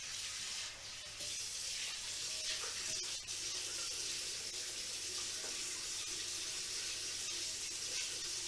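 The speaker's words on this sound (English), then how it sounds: "I've just cleaned off the frying pan from the mushrooms." A frying pan used for mushrooms is rinsed under a running kitchen tap, with a steady, close rush of water and a few faint clinks, and no talking.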